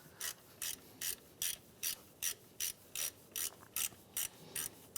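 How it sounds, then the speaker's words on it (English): Ratchet wrench backing out the top alternator bolt on a 2003-2011 Honda Element, about thirteen crisp rhythmic clicking bursts at an even pace, close and clear with no talk. "we're going to remove our last bolt on the top of the alternator"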